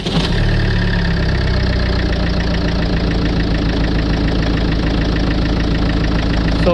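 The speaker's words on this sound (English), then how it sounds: "So if we press that, now we can start the engine." A Land Rover engine turns over on low cranking voltage and catches, then settles into a steady, loud idle with a rough, knocking rumble throughout.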